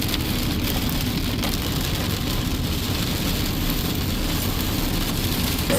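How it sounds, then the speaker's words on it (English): Rain falls outdoors at a mountaintop site as a dense, steady hiss with a low rumble underneath, unbroken and even from start to finish with no voices. "It is raining, but you know what? It will stop raining soon."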